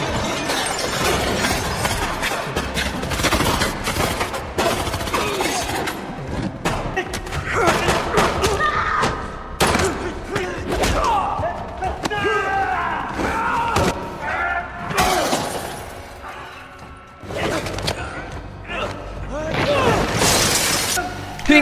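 A gunfight scene from a Jackie Chan action film, with dense crashes, shattering impacts, thuds and rapid bursts of shots layered over film music and effects, loud and continuous throughout.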